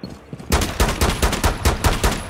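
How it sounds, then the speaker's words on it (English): Video game gunfire, a rapid burst of loud, punchy shots in a steady rhythm of about eight rounds following a quieter lead-in. "I'm shooting randomly."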